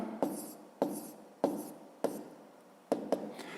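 Pen or pencil writing math in a school notebook during a fifth-grade exercise: five or six close scratching strokes, each starting with a sharp tap and fading, with short pauses between, no talk.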